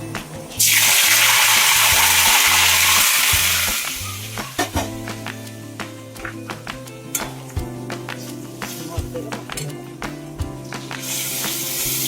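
Curry leaves, turmeric, red chili powder and coriander powder hit hot oil for a tempering (phodni) for amti. A loud, close sizzling hiss bursts at once, then settles into quieter crackling with stirring and clinking.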